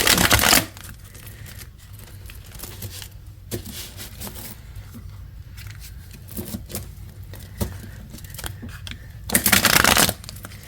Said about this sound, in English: This is one of those decks that shuffles so nice.